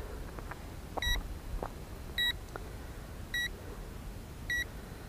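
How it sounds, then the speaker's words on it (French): The remote controller of an Eachine E520S GPS drone, a Mavic 2 clone, beeps during return to home: four evenly spaced short electronic beeps, about one second apart, clear over faint background noise. "Donc la radiocommande bip."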